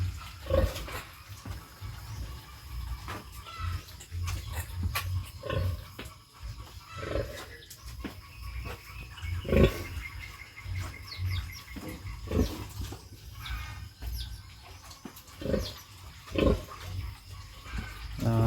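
A farm pig grunts and snorts repeatedly while drinking, with water splashing and sloshing around it and a few bird calls in the background.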